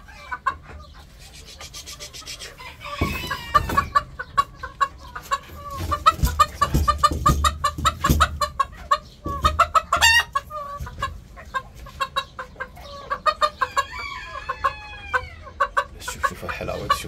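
A rooster and three hens cluck close by in a busy, irregular stream, with a few louder squawks and a brief crowing call near the end.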